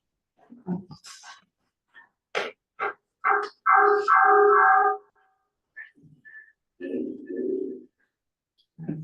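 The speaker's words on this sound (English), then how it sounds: "Can you turn up the sound, Ken, for the owl, or is it up maximum" An owl call recording is played over a speaker during a county ferry advisory committee meeting. Several short hooting and whistled calls come in bursts with pauses between them, moderately loud in a quiet room.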